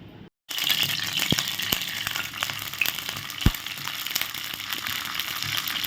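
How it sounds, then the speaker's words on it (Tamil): Mustard seeds, urad dal and green chili sizzle and crackle in hot oil, a dense continuous frying hiss with scattered pops and a few sharp spits, close and steady. "எண்ணெய் காய்ஞ்சதுக்கப்புறம் கடுகு உளுத்தம் பருப்பு பச்சை மிளகாய் போட்டாச்சு"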